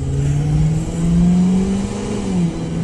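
A federal agents' car cruising through Chicago city streets, its mid-pitched engine droning steadily up close with a slight rise and fall in revs, no voices over it.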